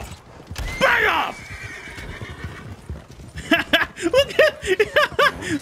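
Stagecoach horses in Red Dead Redemption 2 give a loud close whinny, then a steady rhythmic clatter of hooves and the creak of the moving coach, with no talking.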